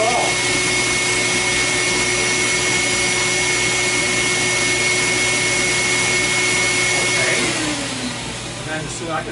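Air track blower running, pushing air through small holes to float an air puck almost frictionlessly; a loud, steady whooshing drone with a faint tone, easing slightly near the end as the blower powers down.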